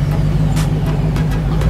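Car engine on a Dubai street, a loud close rumbling drone with a few brief rising surges, continuous over a couple of seconds.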